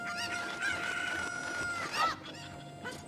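Cuccos in the video game Zelda: Ocarina of Time cluck and crow in repeated, close, shrill calls, with brief game sounds between them and no talking.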